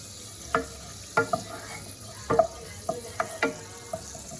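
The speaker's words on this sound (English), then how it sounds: "I just want that to melt because I'm going to fry my seasonings in here." Butter melting in a hot pan on medium-high heat ahead of frying seasonings, with a soft sizzle and a few quiet clicks and taps of a utensil spread across the stretch.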